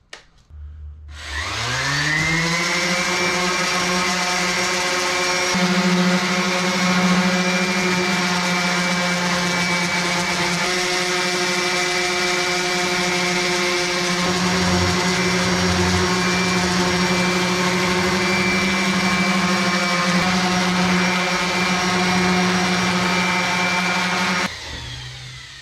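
A power sander runs on a kitchen countertop in a 2002 MCI bus conversion, spinning up to a steady loud high whine that holds for about twenty seconds before stopping, close and alone.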